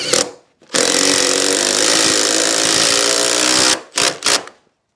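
Power driver running steadily for about three seconds as it drives a screw down through a thermal brake while fitting doors and windows in a garden room build, loud and close, ending with a few short bursts.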